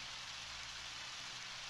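Rain from the video game Undertale, a soft steady hiss of falling drops, faint and even throughout with no talking.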